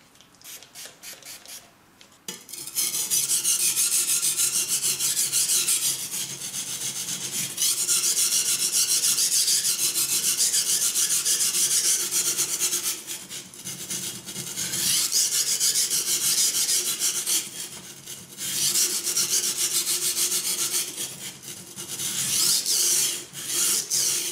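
Steady rasping strokes of a knife blade being sharpened on a Suehiro whetstone, long continuous scraping passes with brief pauses between them, close and loud with no talking.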